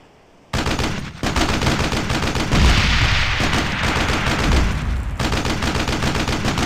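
Heavy bombing run in the video game Battle Islands, a dense, continuous barrage of gunfire and blasts that starts abruptly and rumbles on loudly without pause, with deeper booms swelling midway.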